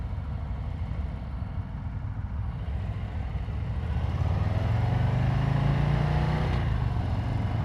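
A 2022 Harley-Davidson Low Rider ST rumbles with a low, steady engine drone under wind noise, then the note rises as the bike accelerates mid-clip before easing back.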